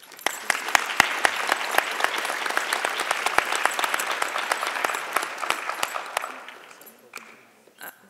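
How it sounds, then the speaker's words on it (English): An audience gives the guests a long round of applause at a talk on Malcolm and Martin. Crisp, dense clapping with a few sharp close claps builds, holds, then thins out and fades, with a brief voice near the end. "Can we have an enormous round of applause for you guys"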